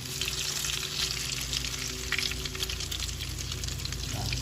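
Croquettes fry in hot grease in a pan, a dense, constant crackling sizzle with bursts of spitting, steady throughout and heard alone.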